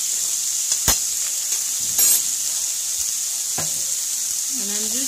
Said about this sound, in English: I'm just going to fry it for some time till the tomatoes are soft